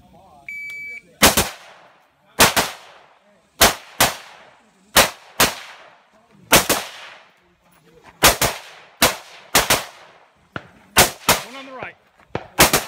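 Gunfire at a 3-gun shooting championship: loud, sharp shots spaced a second or so apart, some in quick doubles, each ringing out with echo, while a voice briefly speaks.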